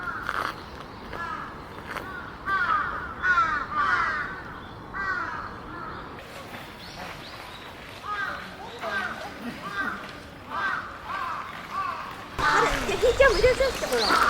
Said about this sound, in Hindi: और क्या आवाज़ है पक्षियों की, अमेजिंग।